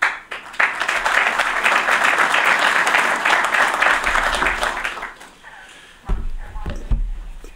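An audience at a talk on U.S. human spaceflight applauds after a speaker introduction, a dense burst of clapping that swells and holds for about five seconds, then thins out into scattered claps and handling thumps.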